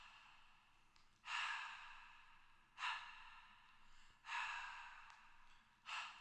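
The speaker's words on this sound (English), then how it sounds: "So I just recorded myself breathing and it sounds like this." A person breathes close to the microphone in four slow, airy breaths with quiet pauses between them, each swelling and fading softly, recorded alone in a hushed space.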